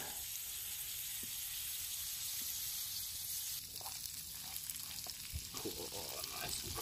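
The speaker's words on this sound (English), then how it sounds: "I think I need to stir them a little bit" Potatoes frying in a pan over a camp stove on a winter wild camp, a constant close sizzle with soft scraping taps as they are stirred.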